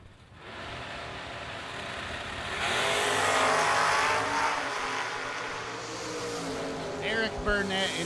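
Two drag racing cars, a first-generation Camaro and a shoebox-era car, run side by side at a vintage drag event, giving a loud, sustained broadband engine roar that swells mid-run, with commentary over it.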